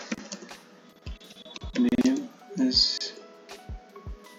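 Scattered keyboard keystrokes tapping irregularly at close range, mixed with a few clicks and some soft background sounds.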